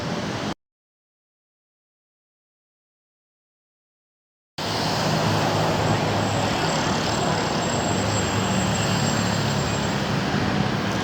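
After a silent gap, a constant dense roar of traffic on Marcos Highway sets in, steady and fairly loud, with no voices.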